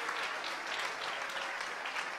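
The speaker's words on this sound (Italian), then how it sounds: "voglio un altro applauso per Fabio Roscani" Crowd applause at a political youth rally, a steady wash of many hands clapping throughout.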